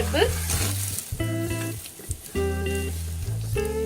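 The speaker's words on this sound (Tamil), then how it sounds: "மிளகு வெந்தயம் எல்லாத்தையுமே நான் வந்து சேர்த்துடுறேன் சேர்த்துட்டு இதை வந்து நல்லா வறுத்துடலாம்" Chana dal and urad dal roasting in a home kitchen pan, with close, steady sizzling and dry stirring scrapes. The crackle fades briefly midway and picks up again in short bursts.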